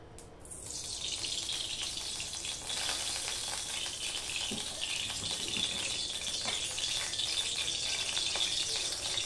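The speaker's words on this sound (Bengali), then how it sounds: "এবার দিয়ে দিচ্ছি আমি সর্ষের তেল।" Mustard oil poured into a hot pan sizzles steadily and loudly, a dense bright hiss that holds unbroken for several seconds, close up.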